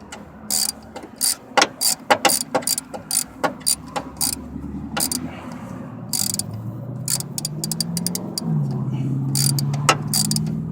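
Socket ratchet tightening starter bolts on a 1989 Oldsmobile Delta 88, with quick bursts of sharp clicking in a steady rhythm, close up, then a low hum and rumble of voices or a background engine toward the end.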